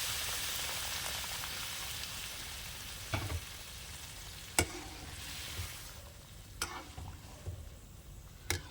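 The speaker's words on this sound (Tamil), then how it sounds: "அப்படியே கிளறி விடணும் நல்லா." Rava kesari stirred in a pan with a spoon, soft frying sizzle throughout and a few sharp scrapes and taps against the pan, close and steady, no speech.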